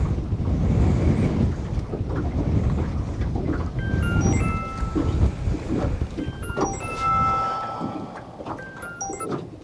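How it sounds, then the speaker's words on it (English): Strong gusting wind buffeting the microphone while fishing outdoors, loud rumbling low roar rising and falling in waves, with faint high bird chirps or line squeaks scattered over it. "The wind is blowing against the rod so hard."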